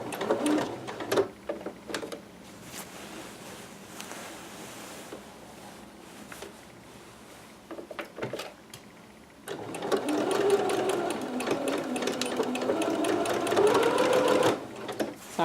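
A sewing machine stitches a dress seam with boning inside, sewn from a McCall's 6701 pattern. Short, buzzy stitching bursts come first, then a loud, steady run of rapid stitching near the end.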